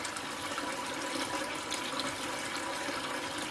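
A toilet cistern refills after flushing, its water dyed blue by a cleaning block, giving a steady rushing hiss and trickle at close range with no voices.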